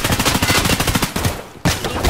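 Rapid automatic gunfire in Escape from Tarkov on the Shoreline map, loud close bursts of shots with a short pause before firing resumes.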